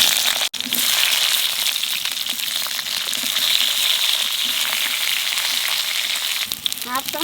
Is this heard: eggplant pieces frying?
yes